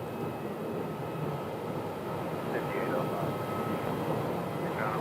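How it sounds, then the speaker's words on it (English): Airbus A321 engine starting at an airport, a steady broad jet roar and whine heard from a distance, continuous throughout. "And we have engine start on this A321, the flight for San Jose del Cabo there."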